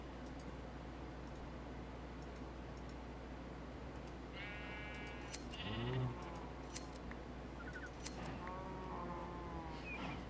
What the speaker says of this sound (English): How are we doing for sheep?